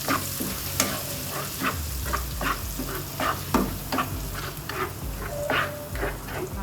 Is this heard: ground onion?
yes